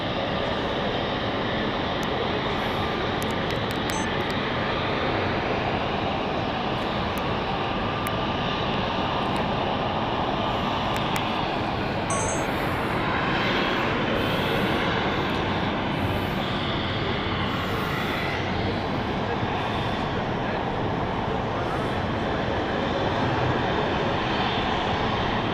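Aircraft engines roar loudly and continuously at London City Airport, a sustained broadband jet rumble filling the whole stretch with no talking.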